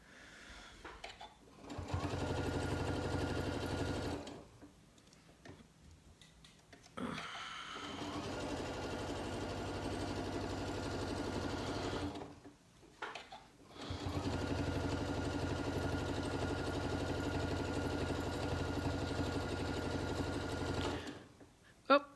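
A sewing machine stitches a quilt-as-you-go quilt in three long humming runs separated by brief pauses, the motor buzzing loud and steady up close.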